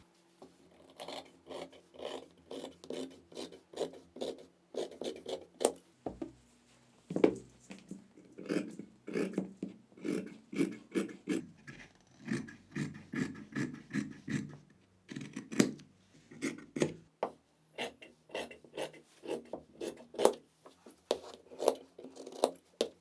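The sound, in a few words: cutting fabric with scissors for a hoodie sleeve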